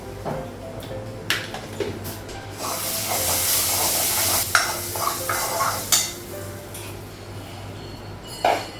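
A dal tempering hisses and sizzles in a kadai, with scraping stirs and a loud burst of steam in the middle, then softer frying with scattered clinks and spatters.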